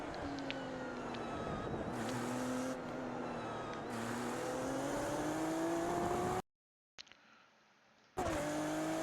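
An Acura NSX Evo engine revving through a lap of Spa in the iRacing video game, with a loud droning note that climbs, drops on downshifts and rises again, broken by a brief gap of near silence.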